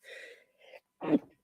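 A single sneeze with a quick two-part intake of breath before it, followed by a sharp, loud burst, close by.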